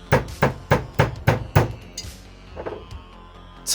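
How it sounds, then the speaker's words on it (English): Six sharp hammer taps on a hard surface strike in a quick, evenly spaced run, loud and close, then a few fainter knocks and small clinks follow. "And then you give it a little tiny tap with a hammer on a hard surface."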